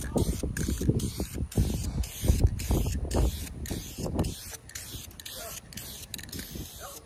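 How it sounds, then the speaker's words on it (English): Black paint sprayed onto a car's intake in bursts during an interior teardown on a Mercedes CLK55, hissing over low clattering work noise with a few short spray pulses in the first four seconds, then a quieter stretch. "I'm gonna throw another coat of black paint on the intake right now"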